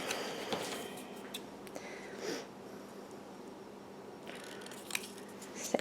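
Scissors snipping out a small paper sentiment, scattered soft close cuts and paper rustles at a quiet level, with no speech.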